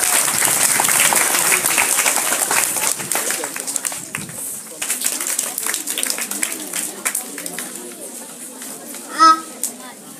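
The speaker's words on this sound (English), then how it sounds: "Please clap for her." An audience at a school event bursts into clapping, with children's voices and movement mixed in, the applause thinning out over several seconds.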